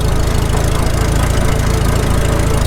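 A Farmall H tractor engine idles low in fifth gear, a loud, close, steady chugging thump with an even rhythm throughout and no talking.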